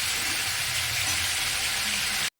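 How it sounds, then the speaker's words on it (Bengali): Fried spice paste of ginger paste, cumin, coriander and turmeric powder with green chilli for a mixed vegetable curry, sizzling and hissing hard in a pan as a little water goes in. The steady, loud fry runs alone, then cuts off abruptly. "মশলাটা কষানো হয়ে গেছে এর সামান্য একটু জল দিয়ে দেবো"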